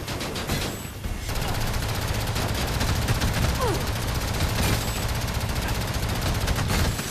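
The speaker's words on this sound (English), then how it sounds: "Is it any wonder it's like a really crap machine gun?" Rapid machine gun bursts in the Fuse shooter game on Xbox 360, a continuous dense rattle of gunfire mixed with explosions and game effects, loud and sustained throughout.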